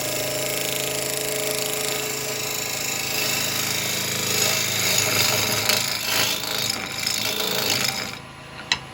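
A woodturning tool cuts into a yew bowl spinning on a lathe. A steady, loud humming drone runs under a continuous scraping cut, ending with a sharp knock.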